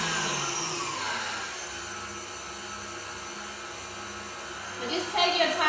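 A KitchenAid stand mixer whirs at a high speed setting, a steady, close motor drone with a faint rise near the end while people talk over it.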